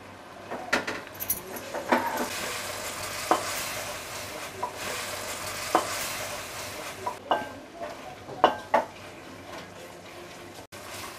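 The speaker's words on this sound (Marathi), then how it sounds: "चला आता आपण पुन्हा एकदा परतून घेऊया." Spicy mutton sukka stir-fried in a pan: a low frying sizzle broken by sharp metallic clinks and scrapes of a spatula against the pan at irregular intervals, close up and with no talk.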